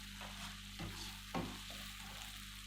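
Black pepper is stirred into a pan for an Afghani omelette, giving a few soft scraping stir strokes over a quiet sizzle and low hum. No voices are heard.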